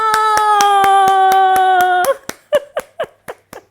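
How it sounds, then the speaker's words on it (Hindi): Rhythmic hand claps ring out alongside a sustained tone, then continue alone as a handful of sharp, evenly spaced claps. "तालियां।"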